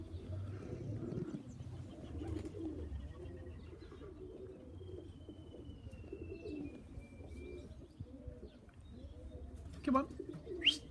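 Young pigeons cooing at a loft, with soft, rhythmic repeated coos from several birds nearby, a thin chirp or two, and a brief louder flutter near the end.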